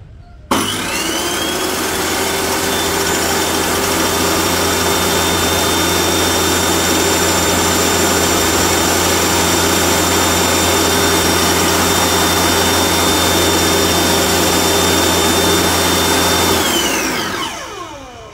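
A Ronix 5601 table saw runs at full speed with no load, a loud, steady motor whine that starts abruptly, holds for about sixteen seconds, then spins down at the end. Close, with no talking.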